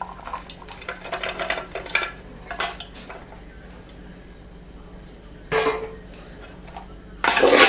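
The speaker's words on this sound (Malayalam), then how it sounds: "ബീഫ് കൂടി ഇട്ട് നല്ലപോലെ മിക്സ് ചെയ്ത് കൊടുക്കണം" Fried beef pieces stirred and scraped in a pan while making Kerala-style beef pickle, with intermittent clinks and scrapes of a utensil against the pan, loudest in short bursts near the start and end.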